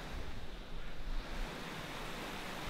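A waterfall gives a steady, broadband rushing hiss, fairly faint and continuous, with no voices over it.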